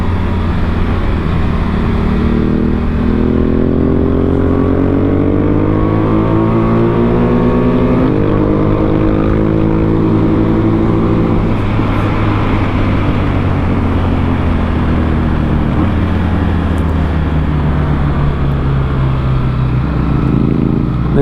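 A Honda Africa Twin motorcycle being ridden, its engine droning loud and close with steady wind rush, pitch climbing and dropping through several gear changes, with no talking.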